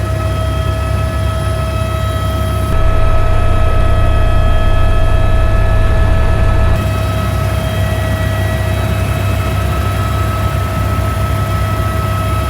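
A helicopter flying over Kauai, its engine and rotor giving a loud steady drone with constant tonal whine heard from inside the cabin, unbroken and unchanging throughout, with no speech.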